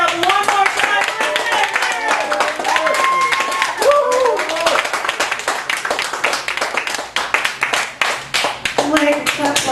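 Audience at a Chicago cabaret gallery venue clapping hard in sustained applause, dense and close, with some cheering and voices mixed in over the nearly ten seconds.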